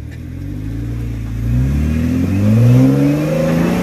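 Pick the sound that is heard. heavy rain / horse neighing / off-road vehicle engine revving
off-road vehicle engine revving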